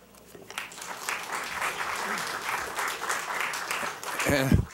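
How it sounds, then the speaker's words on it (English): Crowd applause at a city council meeting after a public comment, a scattered, building patter of clapping that swells toward the end, where a voice briefly speaks over it. "can you hold your applause till the end, and then we can give a big standing ovation?"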